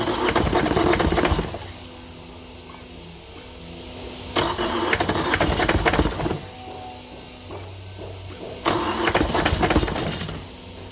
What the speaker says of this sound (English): I'm going to start to crank the engine